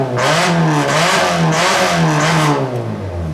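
A modified car's engine revs hard through custom fabricated exhaust pipes, a loud, close, rasping drone that rises and falls in several repeated surges with no talk over it.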